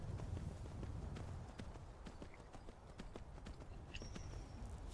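Horse hooves in the Skyrim video game, a fairly faint, steady clip-clop of a ridden horse moving along at an even pace over a soft background bed.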